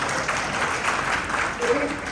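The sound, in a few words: audience applause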